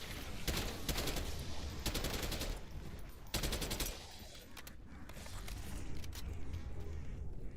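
Rapid bursts of automatic gunfire from a zombie shooter video game, several loud volleys separated by short pauses over continuous game noise.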